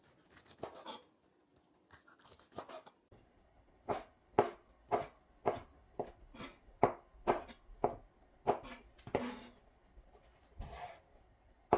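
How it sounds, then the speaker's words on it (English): A knife chops cooled, cooked offal and meat for a Eurasian curry feng, striking a board in a steady run of sharp, close knocks after a few lighter cuts, with no talking. "So what we're going to do is we're going to chop it all up."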